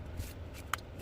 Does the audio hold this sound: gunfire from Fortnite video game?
no